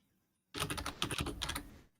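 Rapid typing on a computer keyboard during a live online debate, a dense burst of close clicking keystrokes starting abruptly after a short silence and stopping just as suddenly.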